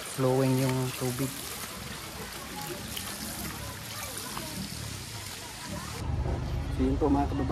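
Rainwater runs in a steady broadband rush along a muddy road during heavy rain, a continuous trickling flow with voices talking over it at the start and end.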